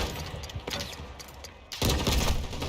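Gunfire and booms from a battle-royale shooter video game, with a sudden loud burst of shots and blasts near the end following quieter scattered game sounds.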